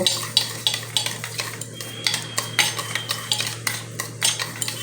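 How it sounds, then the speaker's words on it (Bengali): Spoon whisking sour yogurt seasoned with black pepper in a bowl, with rapid, rhythmic clinking and scraping strokes repeating steadily up close and no talking. "চামচ দিয়ে খুব ভালো করে আমি ফেটিয়ে নেব"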